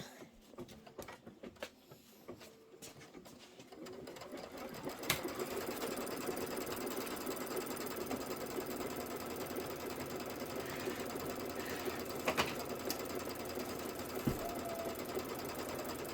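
An embroidery machine stitches a quilt border strip in the hoop, starting with scattered taps and then settling into a steady, close, rapid mechanical whir that continues to the end.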